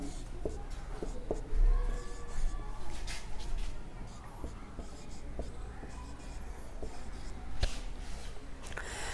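Marker or chalk scratching on a classroom board, soft irregular strokes close by, with faint rubbing and shuffling between them and no speech.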